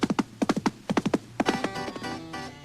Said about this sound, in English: But what Jesse probably used was his horse.